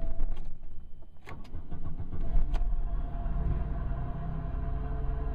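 An Oldsmobile LSS engine cranks and catches on the second try on a snowy 0 °C day, a short churning start settling into a steady idle, close and fairly loud, with no talking.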